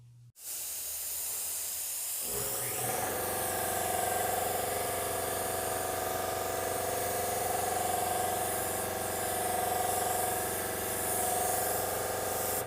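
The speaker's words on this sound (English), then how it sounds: "For our second coat of base, I want to go ahead and try out the Sagola Xtreme minigun." A Sagola Xtreme minigun spray gun lays a base coat of paint on a bumper cover, starting with a short click and then a steady, close, continuous airy hiss.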